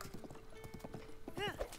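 A horse trots in Zelda: Breath of the Wild, a quick run of clip-clop hoofbeats, followed by a short whinny near the end.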